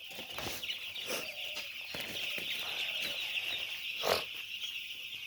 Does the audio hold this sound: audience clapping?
no